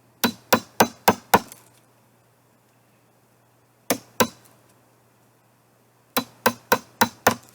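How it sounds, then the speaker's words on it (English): Hammer blows striking an old Chinese chisel come in three sharp, evenly spaced bursts: five quick strikes, a pause, two more, then another rapid run of five, loud and close over a faint steady hum. "The old Chinese chisel."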